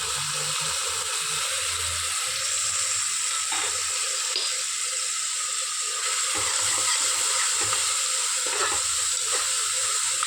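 Ginger garlic paste frying in a pan, a steady hissing sizzle with occasional soft scrapes from stirring.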